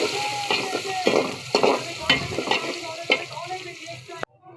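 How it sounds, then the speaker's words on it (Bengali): Onions sizzle steadily in hot oil with cumin and five-spice seeds, while a spoon scrapes and stirs through the pan every half second or so, close and fairly loud with no talking. "জিরা পাঁচফোড়ন আমি দিয়ে দিচ্ছি পেঁয়াজ দিয়ে ভালো করে নেড়ে চেড়ে লাল করে নেব"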